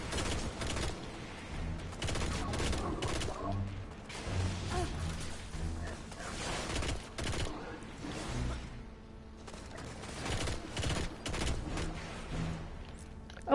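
Rapid video game gunfire in ragged bursts mixed with mechanical clanks and creaks, dense and uneven over about thirteen seconds, with a short lull partway through.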